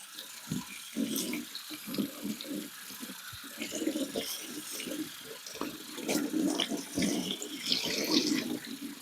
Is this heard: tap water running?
yes